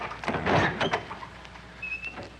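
Door opened at the top of a stairway, a loud scraping slide and clunk followed by smaller rattles and a faint creak, close by with no talk.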